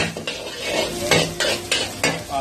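Minced carrots are sautéed with egg in a pan for fried rice: a spatula scrapes and stirs in repeated strokes over a steady sizzle, close and loud, with clinks of metal on the pan.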